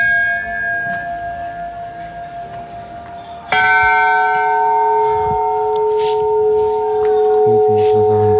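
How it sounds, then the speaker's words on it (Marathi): A large temple bell rings out at a hill-station temple, one loud struck tone with a long humming decay, followed by a second strong strike whose rich overtones ring on and fade slowly. "खूप मोठा असा घंटा आहे."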